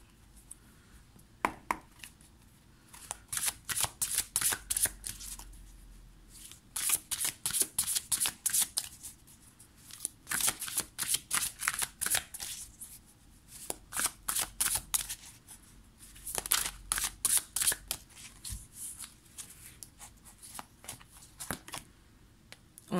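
Tarot cards being shuffled in repeated bursts of crisp riffling and flicking, close and fairly loud, with short pauses between rounds and no voices.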